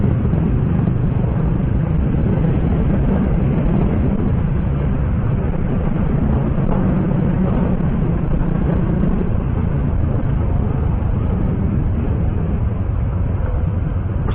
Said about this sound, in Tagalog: Kahit may silencer na yung motor ko, naririnig pa din.